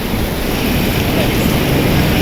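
Steady, dense hiss of heavy rain pouring down, broadband and continuous with a low rumble underneath, no voices.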